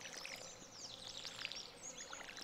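Crops are watered in the farming video game Stardew Valley, giving a soft, continuous splashing pour effect with light bird chirps behind it.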